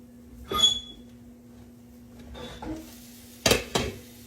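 A small bowl being taken out in a home kitchen after cooking yellow summer squash: a sharp ceramic clink, a softer knock a couple of seconds later, then two quick clatters close together, all near and over a steady low hum.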